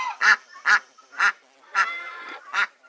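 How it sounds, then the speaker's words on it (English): Male goose in a barnyard honking six times, loud, nasal and close, in a slightly uneven rhythm with short gaps between calls. "And our male goose is most definitely being a good daddy."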